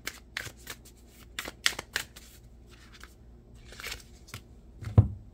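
Tarot cards are shuffled and drawn by hand, giving several quick papery riffling bursts with soft slaps and flicks spread across the span, then a firmer tap near the end, close and clear with no talk.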